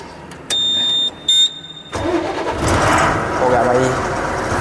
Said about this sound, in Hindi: तो चलो करते हैं फिर गाड़ी को स्टार्ट।